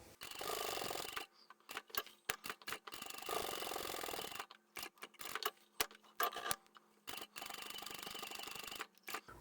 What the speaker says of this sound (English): So we'll stitch down here, along the bottom, and then up the side.